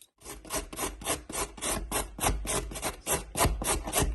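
Carrots rubbed over a grater for homemade coleslaw, a steady run of rasping strokes about eight per few seconds, close and fairly loud with no talk.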